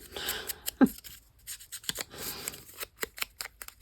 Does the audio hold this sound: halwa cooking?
no